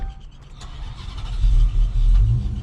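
Dodge Hellcat V8 engine rumbling steadily while driving, a deep low drone that swells louder midway as the car pulls harder, with no talking.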